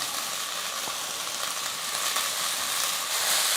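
Masala and vegetables sizzling in a pan while being sautéed for millet vermicelli breakfast, a steady close hiss of frying with faint stirring, no talking.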